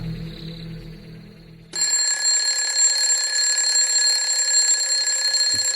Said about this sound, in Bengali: ভোর 5টায় সেই অ্যালার্ম বাজলে মুরারিবাবুর ঘুম ভেঙে গেল